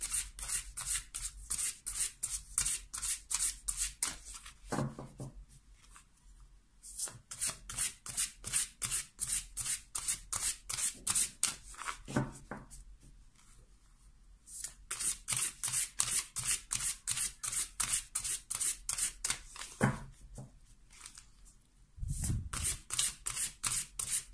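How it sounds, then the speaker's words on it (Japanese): Tarot cards are shuffled lightly by hand in long bursts of rapid, crisp riffling, broken by short quiet pauses, close and clear with no talk. "軽くシャッフルしていきます。"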